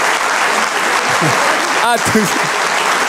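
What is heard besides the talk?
audience applause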